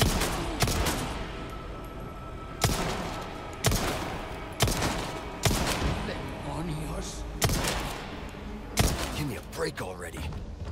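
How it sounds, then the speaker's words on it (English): Enemy gunfire in Resident Evil 4 (Remake) bursts out in repeated loud volleys every second or two, layered with thuds and game noise, while a player talks over parts of it. "Alright, who is shooting at me?"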